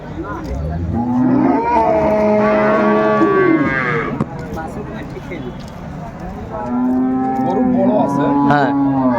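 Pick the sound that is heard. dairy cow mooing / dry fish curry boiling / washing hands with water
dairy cow mooing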